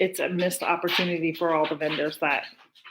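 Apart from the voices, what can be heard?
None of the usual background noises is heard.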